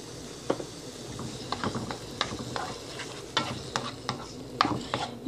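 Spoon stirring sauce into stewing beans in a pot at home, a close series of irregular scraping and clinking strokes over a soft simmering bubble, with no talk.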